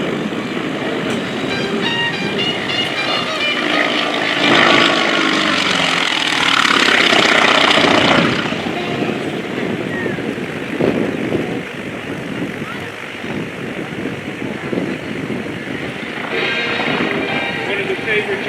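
A Grumman FM-2 Wildcat warplane's piston engine and propeller roar through a photo pass at the 2025 Westmoreland County International Airshow, swelling loud as it passes close, then easing into a steady drone, with a voice talking over it.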